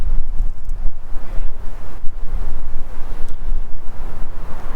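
Wind blowing outdoors beside a street, a steady broadband roar buffeting the microphone with gusty surges and dips throughout, with no voices.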